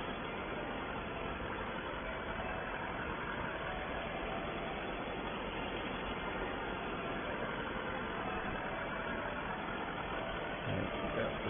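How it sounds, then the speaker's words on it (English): A farm tractor pulling Cambridge rolls across a barley field runs with a steady, continuous engine drone, muffled and unchanging throughout, with no talk over it. "got the tractor out with the Cambridge rolls on"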